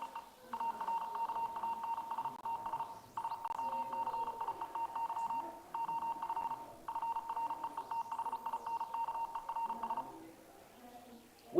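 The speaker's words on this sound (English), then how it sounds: "I'm going to let you listen to radio telegraphy" Morse code radio telegraphy sent at about 35 words per minute, heard as a steady beat-frequency-oscillator tone keyed on and off in rapid dots and dashes, running in several long bursts over faint receiver hiss with no voices.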